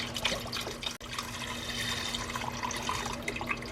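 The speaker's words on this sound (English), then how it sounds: "we're going to pour that in with our chicken" Chicken broth pours steadily into a pot with chicken, a continuous splashing gush with a brief break near the start.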